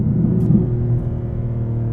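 A 2024 BMW G87 M2 drag build with a wide-open exhaust rumbles steadily on a back road, a low continuous engine drone heard from inside the car without talk.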